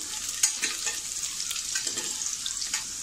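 Garlic sizzling in hot oil in a pan, a steady bright crackle broken by a few louder pops and the scrape of stirring, close and with no talking.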